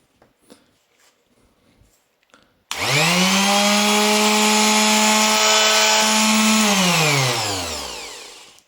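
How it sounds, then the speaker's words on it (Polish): A TOPSHAK TS-SD6 oscillating sander starts abruptly and runs loud and steady with a harsh buzzing whine, then winds down as it is switched off. "jest to typowa praca, jak przy większości tego typu szlifierek"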